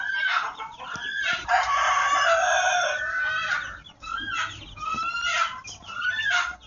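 Free-range village chickens on a Javanese kampung chicken farm, with roosters crowing repeatedly and hens clucking at close range, loud and layered in overlapping calls with no talk.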